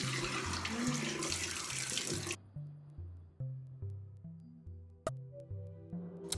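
Tap water runs into a sink as a tomato face mask is rinsed off, first as a loud steady gush, then as a lighter uneven trickle with splashes and drips. Faint voice-like sounds come through near the end.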